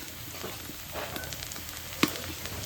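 Green chili paste sizzles as it hits a hot pan while cooking a big katla fish curry, a steady soft crackle with a sharp clatter near the end, no talking.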